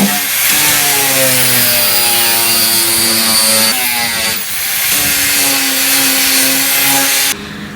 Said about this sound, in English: I'm using a number 36 grit wheel. My grinding and rounding all this off.